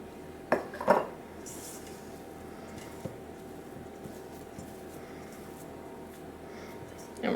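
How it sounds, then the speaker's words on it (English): A utensil clinks twice against a bowl while chocolate chip marshmallow cookie batter is mixed, then only quiet soft stirring follows, with a final knock at the end. "we're just mixing until no more streaks of flour are in our batter"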